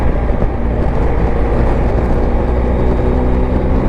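BMW R1250 GSA motorcycle cruising in fourth gear on a back-country road, a loud, steady engine drone mixed with wind rush, unbroken throughout.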